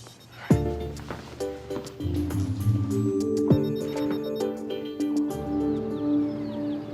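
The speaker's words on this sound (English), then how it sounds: "Your phone is ringing" A phone rings with repeated electronic tones, fairly close, over a low background rumble and a few sharp knocks.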